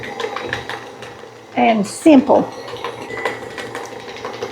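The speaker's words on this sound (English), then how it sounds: "y'all know I use my mixer if I can" Electric stand mixer beating white box-cake batter for a Coke float cake, a steady mechanical whir running throughout, with someone speaking briefly over it.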